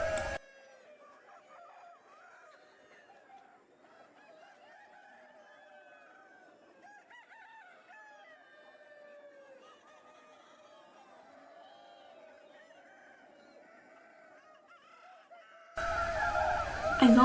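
Chickens on a chicken farm crow and cluck steadily for about fifteen seconds, a busy layered chorus of calls with no talking, followed by a short burst of louder noise at the end.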